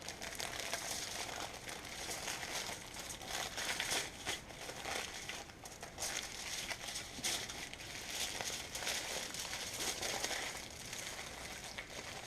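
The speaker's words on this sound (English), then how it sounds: "And then roll it again in your aluminum foil." Aluminum foil crinkles and crumples steadily as it is rolled around a cream-cheese-filled pumpkin roll, close and continuous with no talking.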